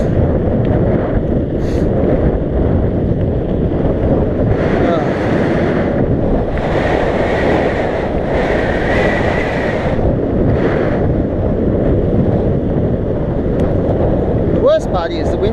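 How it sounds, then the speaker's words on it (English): Strong wind buffets a cyclist's microphone as he rides the road from Goulburn to Canberra via Gunning, a constant loud roar that fills the whole stretch while someone talks over it. "the wind's been against me the whole way"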